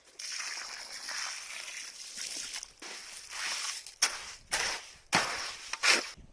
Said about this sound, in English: Now add some water and mix.